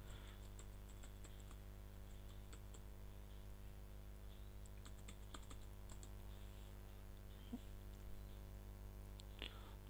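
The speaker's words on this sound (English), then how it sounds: "Type your username and password." Soft, steady clicking of a computer keyboard as a username and password are typed, faint and close, with irregular key taps in quick bursts.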